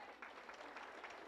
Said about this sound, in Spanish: ¿Pueden dar un aplauso al Señor?